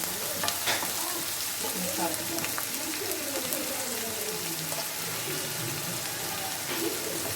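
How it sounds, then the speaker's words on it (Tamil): Chopped ingredients and curry leaves sauté in a hot pan for a dry fish gravy, giving a steady, close sizzle with the scrape and shuffle of stirring throughout and no talking. "சேர்த்துட்டு நல்லா வதக்கிக்கிறோம்."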